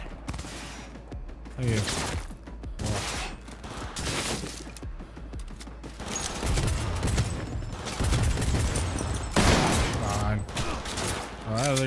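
Rapid bursts of enemy gunfire in the video game Cyberpunk 2077, loud and continuous across the clip, mixed with shattering and a player talking over the shooting.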